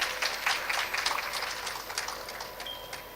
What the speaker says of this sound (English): Please, another beautiful round of applause for her.